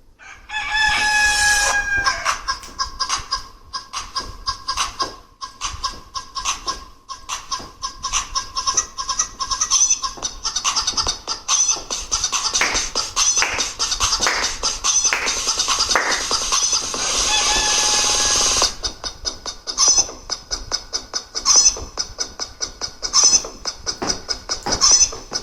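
A children's chicken song plays with a rooster crowing and hens clucking in a lively, repeating pattern, bright and fairly loud from start to finish.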